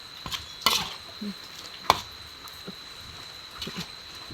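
A knife slices vegetables on a cutting board in a few separate, sharp chopping strokes spaced irregularly, close by against a faint background hum.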